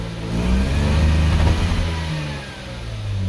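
A Mazda RX-8 engine that sat unused for eight years revs hard at full throttle, a loud, steady rotary roar that swells and eases slightly over a few seconds, heard up close with no talk.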